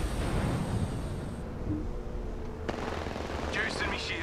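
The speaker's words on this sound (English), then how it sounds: "Being shot at." Rapid bursts of automatic gunfire in the first-person shooter game Apex Legends, loud and dense at first, then giving way to quieter game effects and a few high tones.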